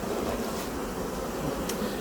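Honeybees in an open beehive, some lingering at the bottom of the hive, give off a steady, dense buzzing hum that continues evenly throughout.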